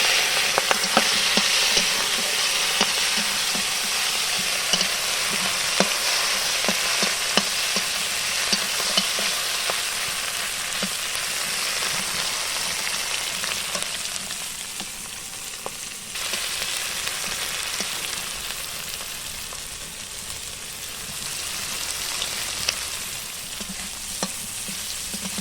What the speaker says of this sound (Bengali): এই যে লবণ হলুদ মাখানো চিংড়ি মাছটা দিয়ে দিচ্ছি